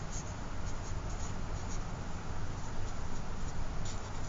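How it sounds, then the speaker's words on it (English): A chemical equation for a Hess's law problem is written out by hand, a steady, continuous scratching of pen on a surface, close and unbroken for several seconds without speech. "So let's go ahead and write that out"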